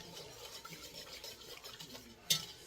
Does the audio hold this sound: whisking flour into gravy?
yes